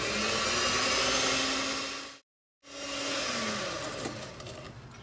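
Electric mixer beating eggs with white and brown sugar for a carrot sponge cake, a loud steady whirring drone that cuts out briefly in the middle and then resumes, heard alone.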